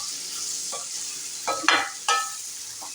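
Fried ivy gourd curry being stirred in a pan, a steady sizzle under several close scraping strokes of the spoon, two of them louder.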